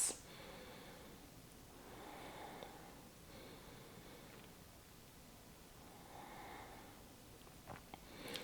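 Slow, steady breathing during a beginner yoga flow, soft airy inhales and exhales cycling through several breaths at close range, quiet and alone with no talking.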